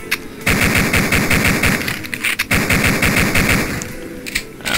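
Gunfire in the video game Duke Nuclear Winter, loud sustained automatic fire with fast regular shots in long bursts broken by brief pauses, close and alone without talk.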